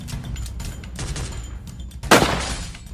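Free Fire battle-royale shooting, with scattered distant gunshots and then a sharp, loud close burst of gunfire near the end, over game background noise.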